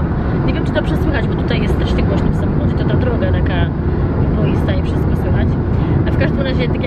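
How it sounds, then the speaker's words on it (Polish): Loud, steady road roar fills a car's cabin as it drives over a noisy road surface on the Isle of Wight, with a person talking over the din throughout. "tutaj jest strasznie głośno w samochodzie, to ta droga taka boista i wszystko słychać"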